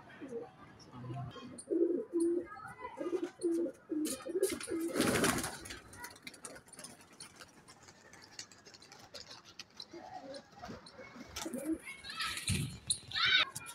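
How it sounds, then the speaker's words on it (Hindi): Low, soft cooing of pigeons repeating several times early on, with a brief rush of wind noise midway and faint voices in the background. "तो यार फाइनली हमारे कबूतर सारे नीचे आ चुके हैं"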